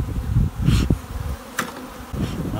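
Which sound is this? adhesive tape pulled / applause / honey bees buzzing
honey bees buzzing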